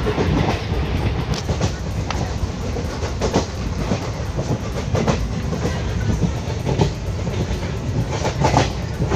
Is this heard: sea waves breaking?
no